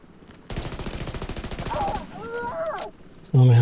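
Automatic gunfire in the video game The Division 2, a loud close burst of rapid shots followed by sharp metallic ricochet-like tones and another abrupt loud hit at the end.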